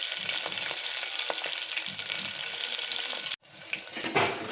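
Green chillies and onions fry in hot oil for bagara rice, giving a steady, close hissing sizzle that cuts out briefly near the end and then returns a little stronger.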